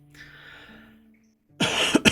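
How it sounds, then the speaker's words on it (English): A person coughs several times in a short, harsh burst near the microphone, following a quiet moment. "I'm sorry for the coughing."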